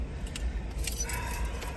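Car keys jangle and clink briefly in a hand near a car with its windows open, a short close metallic rattle over faint background hum.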